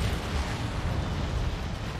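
Dense, continuous rumble of mech weapons fire and explosions in MechWarrior 5 combat, a steady heavy low-end roar of booms and blasts running throughout without pauses.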